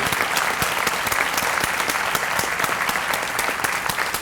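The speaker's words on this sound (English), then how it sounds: "A huge round of applause for your work." Audience at a community breakfast giving a loud, dense round of applause for high school guidance counselors, continuous close clapping throughout with no talking.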